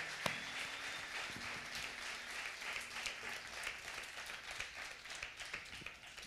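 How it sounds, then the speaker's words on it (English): Church congregation at a youth Sunday service applauding students as they return to their seats, scattered moderately quiet clapping with a few distinct sharp claps in a large room. "Let's give them an applause as they find their seats."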